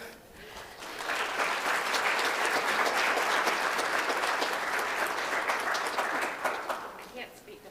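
An audience at a campus awards ceremony breaks into applause that swells quickly, holds as a full, steady roar of clapping, then fades away toward the end.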